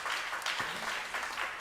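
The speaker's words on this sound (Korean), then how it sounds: "우리 박수 한번 크게 부탁드리겠습니다" A church congregation claps in a brief, fairly soft patter of applause that holds steady for a moment, with no speech over it.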